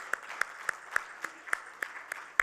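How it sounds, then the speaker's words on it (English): Sparse applause in a hall at a valedictory ceremony, a few hands clapping in a steady, uneven rhythm of distinct claps, moderately distant and fairly thin. "can we give them an applause?"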